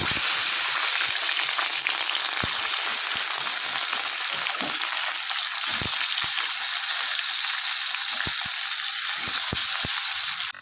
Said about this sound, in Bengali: মাছ তেল গরম হয়ে গেছে চলো মাছটা দিই